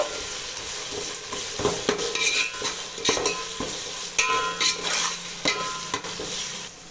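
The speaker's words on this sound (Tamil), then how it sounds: "பாத்திரத்தில் நல்லா வதக்கி விட்டுடலாம்" A carrot rice paste sizzles in a pan while a utensil stirs and scrapes it, with steady frying hiss and irregular close scraping strokes throughout, and no talk.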